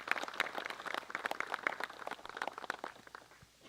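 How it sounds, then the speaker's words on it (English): Audience applause at an awards dinner: a dense patter of many hands clapping in a large room, fairly steady and moderately loud for about three seconds, then quickly thinning out and stopping. "Let's give her a round of applause."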